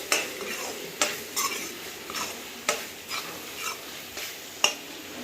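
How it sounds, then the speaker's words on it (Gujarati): Pre-fried potatoes are stirred fast in a pan over a high gas flame, giving a soft sizzle and a series of quick, sharp spatula clinks and scrapes at an irregular pace. "ગેસની ફ્લેમ હાઈ કર્યા પછી આવી રીતે ફાસ્ટથી હલાવતા રહે."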